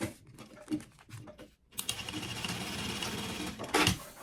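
A sewing machine stitches a seam on a sublimated maternity kit piece: a few short, halting bursts of stitching, a brief pause, then a fast continuous run of rapid needle clatter, close and fairly quiet.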